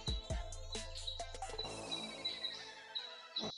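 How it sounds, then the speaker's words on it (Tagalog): Birds chirp and tweet at a quiet island resort, a few bright, quick calls coming in short bursts over a soft, still background. "Maririnig mo na yung huni ng mga ibon."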